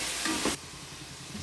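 Green chilies are stirred in a hot pan for fish curry with a loud sizzle that cuts off abruptly, leaving a quieter steady fry close by.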